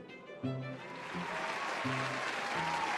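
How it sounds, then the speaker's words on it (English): Applause and cheering from a crowd of guests at an evening event in a story video game, a steady broadband clapping wash with some brief tonal music or voice bits near the start. "There is a round of applause, cheers, and even some hoots."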